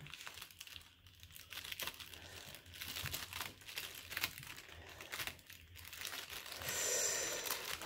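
Paper wrapping crinkles and tears as a diamond painting parcel is opened, close and faint, with steady rustling and crumpling over several seconds, a few brief pauses, and a louder tearing rip near the end, with no voices.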